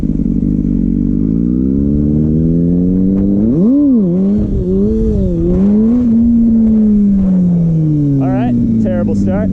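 A Kawasaki ZX6R motorcycle engine rises steadily in pitch while riding, then blips sharply up and down through quick revs before a long sustained high whine; wind and faint rider sounds sit beneath the loud, close engine.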